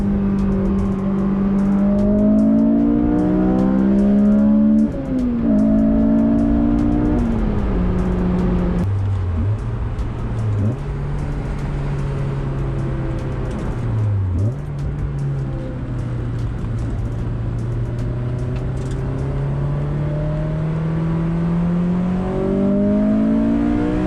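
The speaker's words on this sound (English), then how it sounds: "So go for one last drive before heading to the gas station." A car is driven before winter storage, its engine humming steadily from inside, with gears shifting and revs rising and falling over a long run and no talking.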